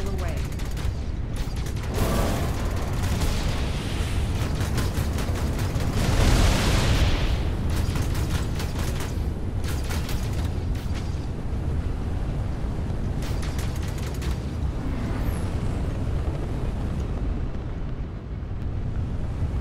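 A missile launches from an Avenger spacecraft fighting a Vanduul swarm in Star Citizen, heard as a loud, sustained roar and rumble over continuous mechanical engine noise, with bursts of crackling and booms.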